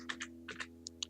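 Soft, quiet clicks of keys being typed on a computer keyboard, about six separate strokes in a short uneven burst over a low steady hum.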